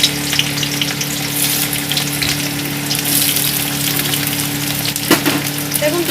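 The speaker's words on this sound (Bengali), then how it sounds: "তেলটা গরম হয়ে গেছে, এবার আমি কুচানো পেঁয়াজগুলো দিয়ে দেবো এখানে।" Chopped onions hit hot mustard oil in a pan for dhaba-style rajma, making a loud, steady close-up frying sizzle with occasional stirring clatter and a sharper knock toward the end.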